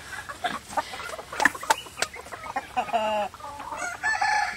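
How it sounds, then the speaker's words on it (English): Chickens cluck and squawk close by, with a rooster crowing partway through and more clucks continuing. "Chickens are all around us"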